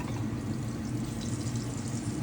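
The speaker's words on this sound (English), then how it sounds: "So why are you pouring that oil off?" Bacon fat pours off a pan while cooking carbonara, a steady close liquid trickle and splash running continuously without pause.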